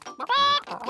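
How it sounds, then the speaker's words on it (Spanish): Cartoon hens cluck in a short burst while being fed corn on a farm, a brief close squawk with no talk over it. "¡Coman, gallinitas!"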